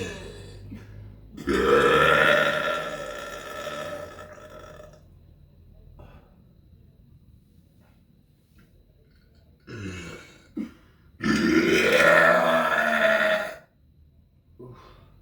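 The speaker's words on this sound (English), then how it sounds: "I can make yoga while burping." Loud, drawn-out burps from a person lying in bed, two long belches a few seconds apart with shorter throaty grunts around them, close to the mic and separated by quiet pauses.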